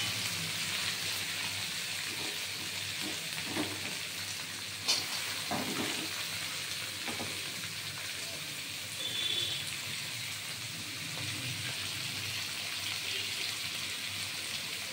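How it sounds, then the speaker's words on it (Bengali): Mixed vegetables fry with salt in a pan on a home stove, giving a soft steady sizzle with occasional clinks and stirring scrapes, close but fairly quiet, with no voices. "একটু লবণ দিয়ে ভাজা হবে।"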